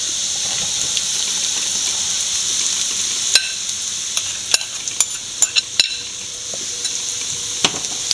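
Ground beef is being sautéed with curry leaves in a pan for a Kerala-style beef cutlet. There is a steady close sizzle, with scattered sharp scrapes and clicks as it gets stirred, and no voices.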